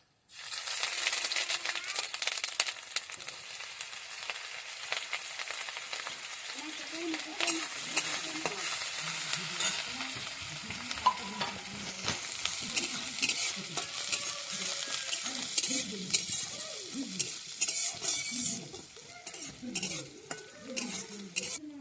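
Chopped garlic, ginger and green chilli fry in a pan for cauliflower manchurian, giving a continuous close sizzle broken by frequent scraping stirs of a spatula.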